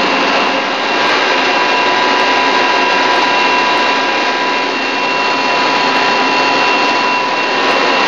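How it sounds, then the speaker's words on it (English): The chip conveyor on a Mori Seiki SH-3H CNC slant bed lathe with a FANUC 10T control runs with a loud, steady mechanical whir and hiss, unchanging throughout, close by with no talking. "Chip conveyor."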